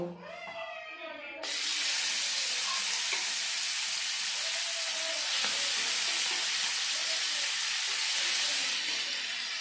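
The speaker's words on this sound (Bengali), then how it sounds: "এখন আমি মাছগুলো ভেজে নেব" Koi fish frying in a wok of hot mustard oil, a loud steady sizzle and hiss that bursts in suddenly after a brief quieter start and continues close and unbroken.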